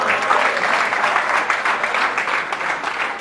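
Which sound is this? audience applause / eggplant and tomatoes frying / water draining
audience applause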